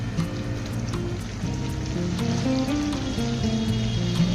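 Onions, two large ones, hit hot oil in a pan with chopped green chilies while making chili chicken, giving a steady, dense crackling sizzle close up, alongside faint background music.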